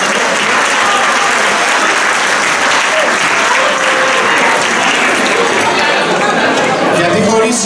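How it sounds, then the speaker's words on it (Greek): Big, loud applause from a crowd at a traditional Cretan dance venue, dense continuous clapping filling the whole stretch, with chatter underneath. "Ένα πολύ μεγάλο χειροκρότημα στα παιδιά"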